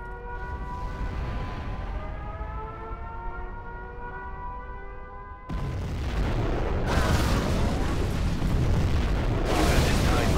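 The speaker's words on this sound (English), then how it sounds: "We have launched our nuclear missile." A nuclear missile detonation in Command & Conquer Zero Hour: a rising siren-like wail gives way to a sudden loud roaring blast that rumbles on continuously, with further booming surges layered over the sustained roar.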